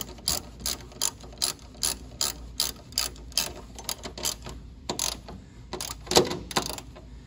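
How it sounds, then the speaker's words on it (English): A ratchet tightens bolts during a radiator replacement on a Dodge Charger, giving a close series of quick rhythmic clicking bursts, roughly a dozen spaced strokes, with a sharper metallic clank near the end. "try to get it from the base or the neck of the ratchet and tighten it down"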